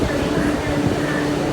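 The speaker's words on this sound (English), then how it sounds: "these Q trains are still so new" MTR Q-train running at Kowloon Bay station in Hong Kong, with a steady, close, droning rumble and hum of the train throughout.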